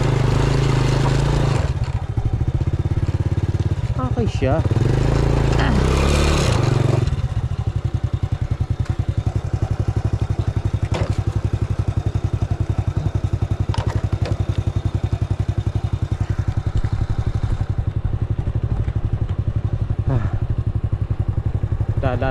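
Motorcycle near a river, climbing a loose slope, its engine chugging loud and close with a steady low thrum, revving and clattering at the start, with brief speech over it.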